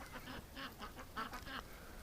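Ducks, including large Muscovies, quacking in a winter yard, a quiet, uneven series of short nasal calls at some distance.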